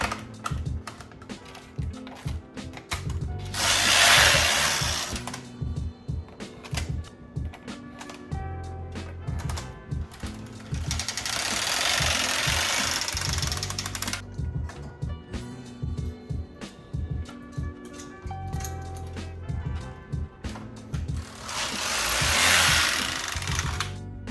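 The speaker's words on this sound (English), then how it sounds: "You guys just saw me knit the waist yarn." A Brother KX350 knitting machine knits waste yarn, its carriage swept back and forth in three long, loud passes of rattling, clacking needles and whooshing travel, with mechanical ticking and clicks between passes.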